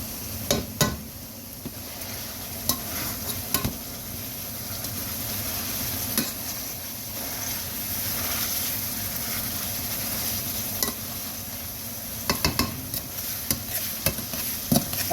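Ground beef sizzling and frying in a pot for one-pot chili, with steady hiss and repeated scraping stirs and spoon knocks scattered through, close and moderately loud, no talking.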